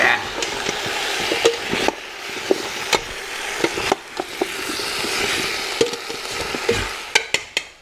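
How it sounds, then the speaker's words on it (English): Caribbean hambone stew stirred in a pot: steady bubbling simmer with a spoon scraping and knocking against the pot in irregular strokes, close and fairly loud. "And so we just gonna stir that up."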